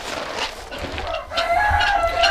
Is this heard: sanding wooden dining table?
no